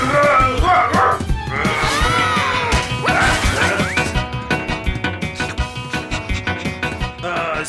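A cartoon dog barks and yips in a busy animated scene from the series 44 Cats, Latin American Spanish dub, loud and close, mixed with crashes and thumps and then a rapid run of short rhythmic yaps.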